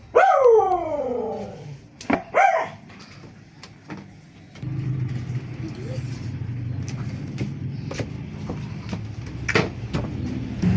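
A dog gives several sharp barks and yips near the start, then quieter noises and scattered clicks follow under a low steady hum while people talk.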